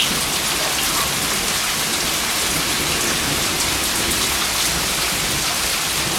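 Steady, dense rainfall pattering on surfaces around a tortoise, a continuous broadband hiss with no voices.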